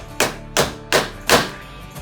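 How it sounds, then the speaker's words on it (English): A standard hammer drives nails to refasten a loose gutter, landing four sharp, evenly spaced strikes close by with no talk. "we're going to go ahead and nail these back in real quick"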